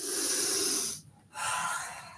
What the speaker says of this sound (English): Inhale, exhale here.